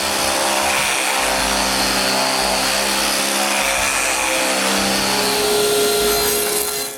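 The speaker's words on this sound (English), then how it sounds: "I sand their edges with my linear sander and a homemade sanding block" Linear sander with a homemade styrofoam sanding block working the edges of wooden circles for a shoe rack, a steady loud buzzing hum throughout.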